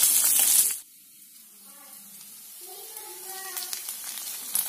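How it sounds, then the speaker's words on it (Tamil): Onions sautéing with tamarind in a pan for coriander chutney give a soft, steady sizzle after a brief louder burst of noise at the start, with faint tonal clinks and no talk. "இது கூட புளியை சேர்த்து போட்டு வதக்கிதாங்க."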